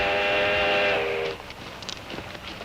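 A loud, sustained steam train whistle in a Western film blows for about a second, then fades into quieter rumbling and clatter.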